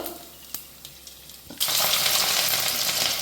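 Mustard seeds and two dried red chillies dropped into hot sesame oil, quiet with a few small clinks at first, then a sudden loud, crackling sizzle that holds steady to the end.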